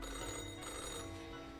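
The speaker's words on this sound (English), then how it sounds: "An old-fashioned phone suddenly rings with an ear-piercing metallic clatter." An old-fashioned telephone rings in a video game, a bright metallic bell clatter held steadily and close through the whole short moment with no speech over it.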